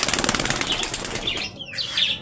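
Pigeons' wings flap in a rapid fluttering burst up close, followed by a few softer rustles as the birds settle.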